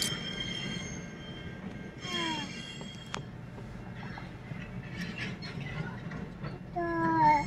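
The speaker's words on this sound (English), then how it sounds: "We have train." A train rolls past on rails with loud, high wheel squeals rising and falling over a steady low rumble, close by and continuous, with a sharp clank partway through.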